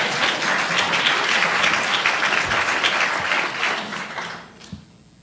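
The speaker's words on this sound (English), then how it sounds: "Did I hear applause?" Audience applause at a policy conference, a sustained wash of many hands clapping that fills the room, then tapers off and fades near the end with a last few scattered claps.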